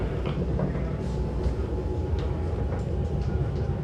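An Elizabeth line Crossrail train rolls into Abbey Wood with a steady rumble and rattling carriage noise under faint clicks, and no clear voices.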